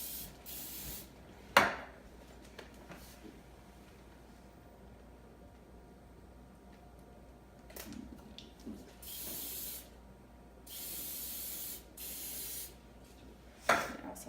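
Hairspray misted onto hair from an aerosol can, several steady hissing bursts of a few seconds each with quiet gaps, close by, plus a couple of sharp clicks.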